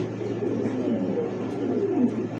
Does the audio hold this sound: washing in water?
no